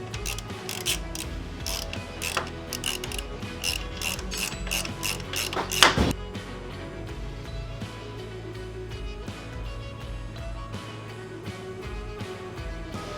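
Torque wrench ratcheting on the kickstand bolts of a Harley-Davidson Fat Bob, a dense run of quick close clicks over six seconds ending in a sharp snap, followed by a quieter stretch of faint mechanical handling.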